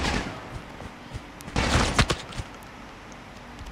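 Call of Duty Mobile gunfire at a distance, a busy but fairly quiet background of scattered shots with a sharper cluster of loud cracks in the middle, no voices.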